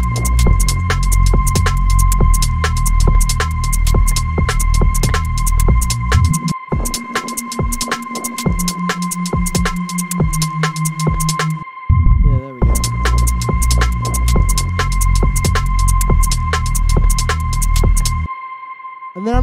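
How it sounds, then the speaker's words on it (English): Deep, dark detuned saw-wave synth pad through a low-pass filter in Ableton Operator for a future garage track, sustained chords under a steady pulsing beat with a constant high tone, briefly dropping out before returning. "So we have like a very deep, sort of dark re-space there."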